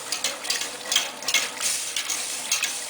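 Milk-based béchamel cooking in a pan with a light, steady bubbling sizzle and soft stirring scrapes, close and moderately quiet with no talking.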